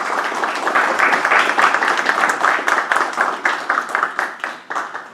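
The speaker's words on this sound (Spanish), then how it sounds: "Recibamos con un fuerte aplauso." An audience at an academic lecture claps steadily, a dense burst of applause that thins toward the end into scattered individual claps.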